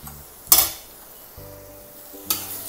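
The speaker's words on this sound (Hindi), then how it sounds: "अब इसमें टमाटर डालेंगे और टमाटर को भी सॉफ्ट होने तक पकाएंगे।" Tomatoes sizzling in a hot pan for tawa pulao, a soft steady sizzle broken by two loud scraping stirs with metal utensil clinks, one early and one near the end.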